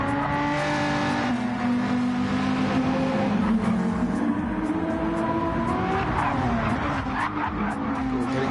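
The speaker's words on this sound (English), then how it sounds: "Squirrely, Antonio under braking in the 3rd sector." Gr.4 race cars brake hard at Trial Mountain in Gran Turismo 7, tires squealing and skidding over steady engine drone. The sound is continuous and moderately loud, with a commentator's voice faintly underneath.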